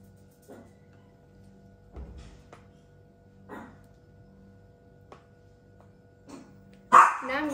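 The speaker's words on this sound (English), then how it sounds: "Sorry about my dogs." Several dogs bark intermittently in a home while people play a trivia quiz game, short separate barks spaced out in the background, followed by a louder burst at the end.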